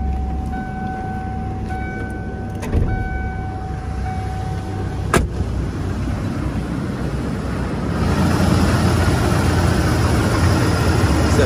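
A 1992 Ford F-250 XLT 4x4 pickup with a 460 cubic inch V8 idles smoothly with a steady low rumble, close and continuous, growing a little louder and fuller near the end.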